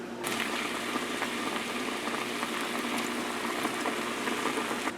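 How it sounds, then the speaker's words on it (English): Fries sizzle and bubble in hot oil during their first deep fry, a dense, steady, close crackling hiss with no talking. "So this is their first fry."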